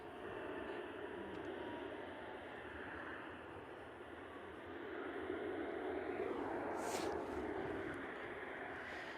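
A Velocity Boeing 737-700 jet heading in to land at Perth airport, its engine roar a steady, broad rumble from a moderate distance that swells slightly as it passes, with no voices.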